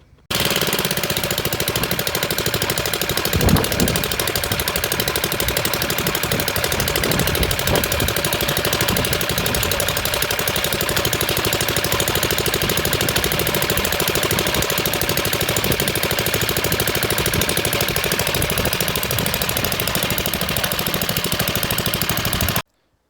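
A 1962 Briggs and Stratton cement mixer engine, long unused, runs steadily and loudly throughout, with a dense, continuous clattering drone and no talking.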